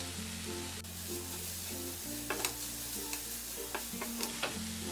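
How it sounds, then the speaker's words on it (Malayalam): Spice powders and salt stirred into a bread masala in a pan, soft scraping and light sizzling over a steady low hum, with a few sharp clicks of the spoon. "ഇതിലേക്ക് ഇനി എടുത്തു വെച്ചിരിക്കുന്ന പൊടികളും ആവശ്യത്തിനുള്ള ഉപ്പും ചേർത്ത് ഒന്ന് ഇളക്കി കൊടുക്കാം."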